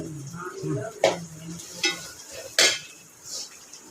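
Oil sizzles faintly as onions and garlic are stirred in a pan as tempering for a fish curry, with a few sharp scraping clinks of a spoon against the metal.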